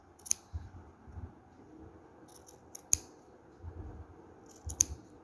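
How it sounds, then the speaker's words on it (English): Scissors snipping yarn while shaping a crocheted daisy flower, three sharp close cuts spaced a couple of seconds apart over a low background hum. "So now cut the yarn, make it the shape."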